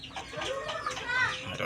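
Chickens cluck and squawk near a coop that is being cleaned after a flood, with several birds chattering in short, overlapping calls close by.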